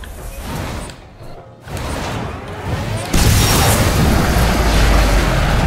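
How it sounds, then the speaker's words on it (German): A heavy booming bomb blast in the video game Enslaved: Odyssey to the West bursts over a rushing, noisy background, loud and sustained. "werf eine neue Bombe"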